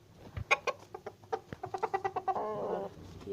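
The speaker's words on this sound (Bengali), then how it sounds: "ওই সোনালি কালার একটা মুরগি দেখছেন এটা আমার এটা দেশি মুরগি" Desi chickens on a small farm cluck in a quick series of close, fairly soft notes, ending in a longer drawn-out call.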